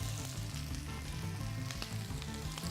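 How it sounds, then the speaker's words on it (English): Food with garlic sizzles and crackles steadily while caramelizing in a hot pan, a close, dense frying hiss with occasional stirring scrapes and no talking. "you have to keep hearing the sizzle, because the sizzle means it's caramelizing and not boiling"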